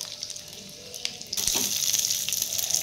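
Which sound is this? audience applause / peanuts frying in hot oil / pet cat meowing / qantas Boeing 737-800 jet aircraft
peanuts frying in hot oil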